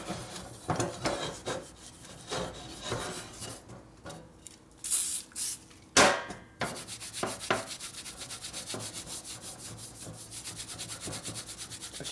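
Rough barnacle-chrome motorcycle part for a 1950s Harley panhead being rubbed, giving repeated scraping, rasping strokes up close, with a brief pause and louder scrape midway, then fast steady rubbing.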